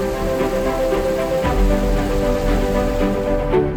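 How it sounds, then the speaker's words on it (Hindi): Steady rain falls on the evening route out of Delhi at the start of a Shrikhand Mahadev pilgrimage, a continuous close hiss of drops with a low rumble and no talking. "बारिश"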